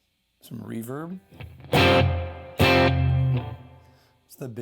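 An electric guitar played through a Tonex pedal with a large plate reverb: a sliding bend, then two loud distorted chords that bloom and decay slowly in a long reverberant wash, followed by another strum.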